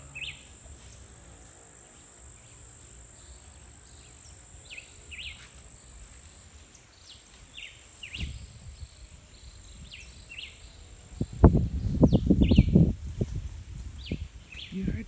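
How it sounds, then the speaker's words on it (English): Birds chirp outdoors in a natural setting where butterflies are about, with short repeated high calls over a steady bed of insect buzzing, followed near the end by loud close rustling and handling noises. "the birds are making those beautiful sounds"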